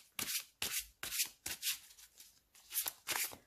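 Tarot cards being shuffled by hand for a reading, a close, even series of about eight papery riffling swishes in steady rhythm, with no talk.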